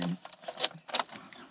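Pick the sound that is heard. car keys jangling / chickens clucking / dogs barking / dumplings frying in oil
car keys jangling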